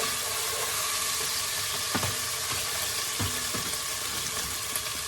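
Garlic and ginger frying in oil in a pan for a coconut green curry, a steady loud sizzle with a few soft stirring knocks.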